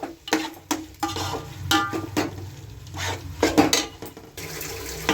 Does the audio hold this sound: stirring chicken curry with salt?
yes